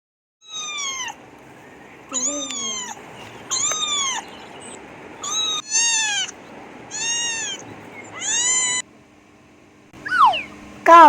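A cat meows repeatedly, about seven drawn-out, clear meows in a steady sequence, fairly close and loud, with a couple of shorter higher calls at the end.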